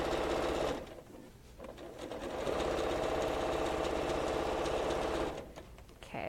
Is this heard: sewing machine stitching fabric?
yes